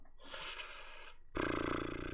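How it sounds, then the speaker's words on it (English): Kitten purring in the video game Stray, a steady close rumbling purr that continues unbroken and then grows noticeably louder partway through, heard alone with no talking. "And he's purring."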